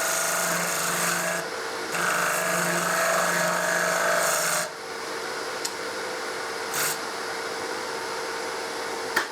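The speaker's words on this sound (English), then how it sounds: "form a bead with our spindle gouge. Nice and gently." A wood lathe whirs while a spindle gouge scrapes and rasps against spinning wood in bursts, forming a bead, then the tool lifts off, leaving the motor humming with faint clicks.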